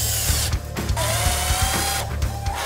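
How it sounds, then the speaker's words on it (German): Wooden shelf pieces are screwed together with a power screwdriver, a loud close whirring with rapid ratcheting clicks in short bursts broken by brief pauses. "Das wird jetzt miteinander verschraubt."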